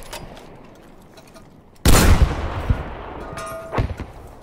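Battlefield V Firestorm gunfire, a sudden loud burst of close shots after quiet faint ambience, then scattered shots and a final sharp crack echoing nearby.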